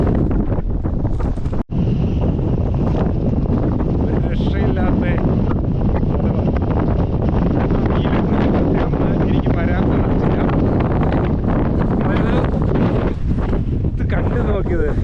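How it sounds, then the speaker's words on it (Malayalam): Strong mountain wind on hill ranges buffets the microphone in a constant loud roar, with a person speaking briefly underneath the gusts. "കാറ്റ് കാറ്റ് ഭയങ്കര കേട്ടോ ഭയങ്കര കാറ്റാണ്"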